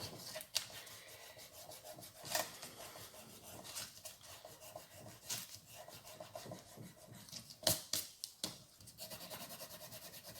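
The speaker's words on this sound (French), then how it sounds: "Je vais gommer ça." An eraser rubs out pencil marks while making a round craft box, giving repeated quiet scratchy strokes in uneven bursts, close and soft, with no voices.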